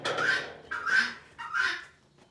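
Guinea fowl call nearby in three loud, harsh, rhythmic bursts, each a grating cackle with a short gap between them, heard alone without talk.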